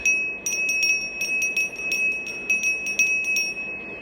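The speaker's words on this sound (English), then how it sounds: "How do they ring the bell?" A bell rings with repeated bright, steady strikes at an even pace over a sustained high ringing tone, clear and fairly loud with no talking.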